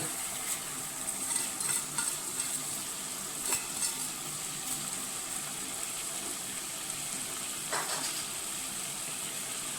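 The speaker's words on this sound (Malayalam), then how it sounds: "കറിവേപ്പില ഒന്ന് കൈ കൊണ്ടൊന്ന് ക്രഷ് ചെയ്യുക. ഇതിലേക്ക് ചേർത്ത് കൊടുക്കുക." Crushed curry leaves go into a pan of frying curry-leaf pickle and are stirred, giving a steady bright sizzle with scattered clicks and scrapes of a spoon against the pan, close and moderately loud, with no voices.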